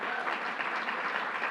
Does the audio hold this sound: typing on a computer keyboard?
no